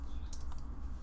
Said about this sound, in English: Hitting L on the keyboard